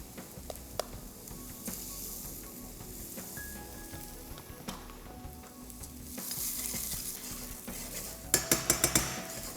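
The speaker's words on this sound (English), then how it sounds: "I'm going to add about a teaspoon of garlic and about a teaspoon of ginger." About a teaspoon each of garlic and ginger sizzle in a pan for a Malabar prawn curry, a soft frying hiss with scattered utensil clinks and stirring, rising near the end into a brighter sizzle and a quick series of sharp metallic taps.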